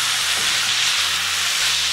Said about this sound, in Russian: Перемешиваем наш жульен.